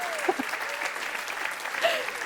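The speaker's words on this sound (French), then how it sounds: "Ouais, on peut applaudir." Audience at a regional sports merit ceremony applauding a birthday, a soft, steady patter of clapping throughout with a few voices and whistle-like calls rising over it.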